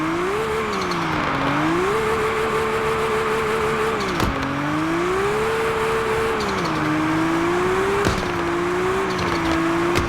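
Car engine in the Car Parking Multiplayer 2 mobile game whining steadily through a drift, pitch rising and dropping with gear changes, plus two brief sharp clicks, no talking.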